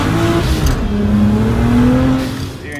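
A Nissan 350Z running on E85 fuel accelerates hard, its loud engine note climbing steadily in pitch as it pulls, with the sound easing slightly at the end.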